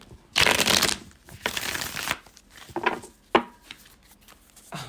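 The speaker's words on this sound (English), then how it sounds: "I'm going to go ahead and shuffle. So, if you're wearing headphones, be wary." A deck of tarot cards is riffled and shuffled by hand up close, a loud opening burst of fluttering cards followed by softer shuffles and a final sharp snap.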